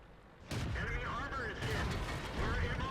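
Heavy shell impacts on a tank in World of Tanks, an Excelsior taking hits from a Churchill, an abrupt loud crash followed by sustained mechanical rumble and clanking debris.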